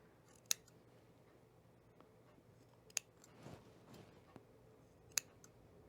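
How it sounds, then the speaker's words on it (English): Scissors snip through small fabric pieces for a stuffed hedgehog toy, several sharp, isolated clicks spaced a couple of seconds apart, quiet and close with faint rustling between cuts. "I'm going to trim these down."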